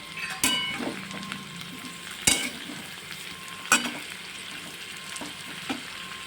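Spiced potato dish with sugar and garam masala stirred in a pan, a low continuous sizzle broken by three sharp spoon-on-pan clanks spaced a couple of seconds apart, close and without talk.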